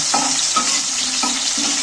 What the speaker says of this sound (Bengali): টমেটো কাঁচা লঙ্কা সবই ভাজা হয়ে যাবে